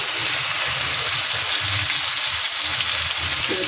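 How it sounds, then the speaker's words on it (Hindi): Marinated chicken for tikka dropped into a pan of oil and lightly golden onions, sizzling in a loud, steady, close hiss throughout with faint stirring beneath and no talking. "मैरिनेट किया और चिकन डाल देंगे और इसको हमने अच्छे से मिक्स करेंगे"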